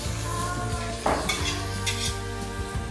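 Coriander and mint sautéing in oil for chicken biryani, a close sizzle under a sustained metallic ringing hum, with a couple of sharp utensil clinks against the pot, no talking.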